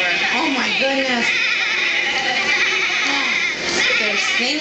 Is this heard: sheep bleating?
yes